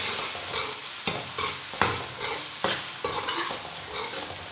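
Tomatoes frying in a pan with garlic, a steady sizzle punctuated by several sharp clinks and scrapes of a utensil stirring, close and fairly loud with no voices.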